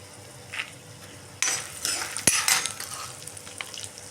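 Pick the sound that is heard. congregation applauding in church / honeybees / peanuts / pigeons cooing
peanuts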